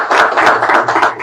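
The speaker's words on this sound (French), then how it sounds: "Je vous demande de vous applaudir vous-même puisque vous êtes un très bon public." An audience at a certificate ceremony applauds, a short burst of dense, close hand clapping with no voices over it.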